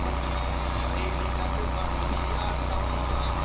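An HMT 5911 tractor engine in Farming Simulator 22, pulling a 12-foot rotavator across a field, gives a steady, dense, continuous mechanical drone with no breaks, moderately loud and alone.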